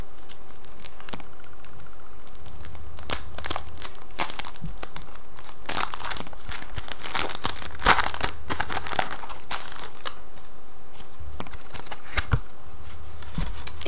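Plastic packaging for iPod Touch 4G anti-glare screen protectors crinkles and rustles as it is opened up close, in irregular bursts of crackling and tearing with brief pauses.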